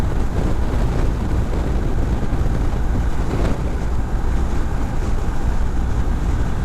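Roaring wind noise buffets a rider's helmet on a BMW 1250 motorcycle ridden two-up, a loud, continuous broadband rush that stays steady throughout with no voices.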